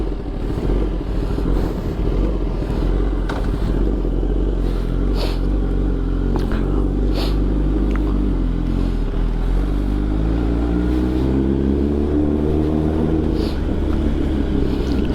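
A motorcycle engine rumbles steadily up close throughout, its pitch shifting as it rides, with occasional rattles and clatter.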